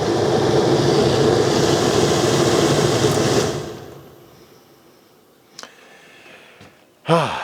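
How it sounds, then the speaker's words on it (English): A camper's air conditioner with a big squirrel cage blower runs at a loud, steady whir, then cuts off, leaving near silence broken by a couple of faint knocks. "there's a big squirrel cage blower, and that's where our cold air comes out"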